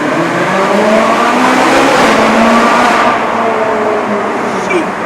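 A Jaguar XKR-S engine revs hard inside a tunnel, a loud, sustained roar that reverberates off the walls, builds, then eases off toward the end.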